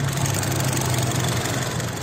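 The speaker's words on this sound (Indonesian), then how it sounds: "Untuk suara mesinnya masih khas banget, suara dari mesin Honda" A Honda car engine idles smoothly with a steady, even rumble and a low hum, holding at a constant moderate level throughout with no revving.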